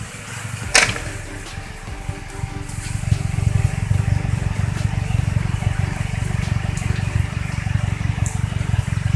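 Engine of a Suzuki Carry running at idle at the exhaust after a test drive, a steady loud pulsing rumble close to the tailpipe, with a sharp click near the start.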